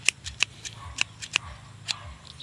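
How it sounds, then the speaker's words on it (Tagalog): Scissors snipping stems off an overgrown eggplant seedling with fruit and many branches, a series of short, sharp clicks spaced unevenly and close by, with no talking. "mas okay kasi guys kung gunting"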